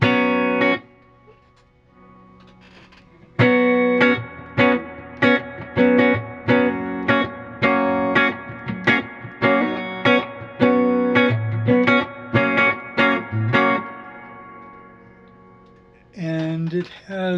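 Pedal steel guitar played through a Milkman amp with strong reverb, loud and close: a run of sustained, gliding chords struck in a steady rhythm, each ringing into a reverb tail, then a brief final swell.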